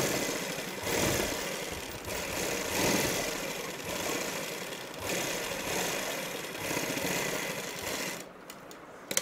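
A sewing machine runs steadily while stitching a salwar poncho, its motor hum rising and falling in bursts over several seconds, close and moderately loud, with a few sharp clicks at the end.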